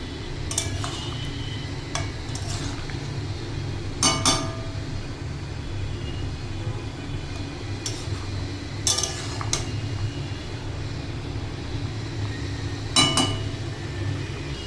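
Eggplant and mixed vegetables with prawns stirred in a cooking pot, with sparse metallic clinks and scrapes of a utensil against the pot over a steady low kitchen hum, close and fairly quiet.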